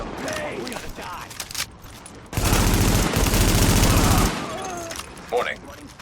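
Loud sustained burst of rapid automatic gunfire in a shooter video game, running about two seconds amid shouted voices and game chatter before and after.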